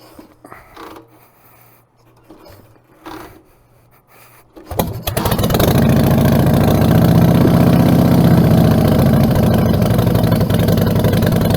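An old kickstart-only motorcycle is kicked over after a few quiet fumbling sounds, then catches and settles into a loud, close, steady idle that carries on to the end.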